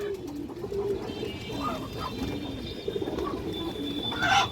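A male pigeon of a tournament-flying breed coos in low, soft rolling phrases, close by, with faint chirps and bird noise around it.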